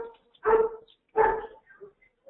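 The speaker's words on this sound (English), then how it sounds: "Those are my poodles barking." Pet poodles give two distinct barks about a second apart, fairly close and clear, followed by a few faint softer yips in an otherwise quiet room.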